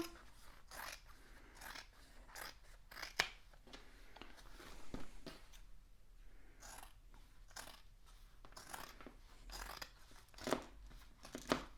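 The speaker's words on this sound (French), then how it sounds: "je coupe avec des ciseaux classiques puisque je suis majoritairement sur de la suédine" Ordinary scissors snip through suede fabric while trimming a seam allowance for a sewn pouch, giving repeated crisp cuts and crunchy snips at an irregular pace, close and fairly quiet.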